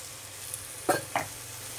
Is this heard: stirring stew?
yes